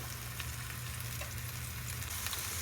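Meatballs for Cajun spaghetti browning undisturbed in a hot pan, giving a steady, close, dense sizzle and crackle that holds evenly throughout with no voices.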